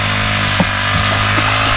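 A gasoline grass cutter runs steadily on a farm, a loud buzzing two-stroke drone with a few brief bumps as it cuts, heard up close with no speech.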